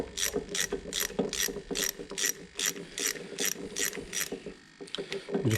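Ratchet backing out T30 Torx screws on the cylinder head of a Dodge Ram air suspension compressor, with a quick rhythmic run of about a dozen close, crisp clicks.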